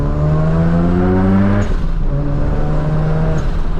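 Mazda RX-7 FD rotary engine pulled hard on a winding mountain pass, loud close engine drone with rising revs, a brief lift around a gear change, then climbing again, no voices.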